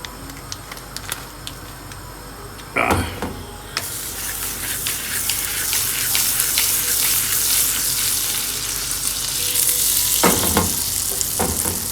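A cheeseburger patty frying in butter, with a steady loud sizzle and crackle throughout, broken by a few louder scraping or spattering bursts.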